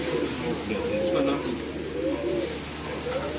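Pigeons coo softly in a rooftop loft, the low throaty calls looping over steady background noise, with someone talking intermittently nearby.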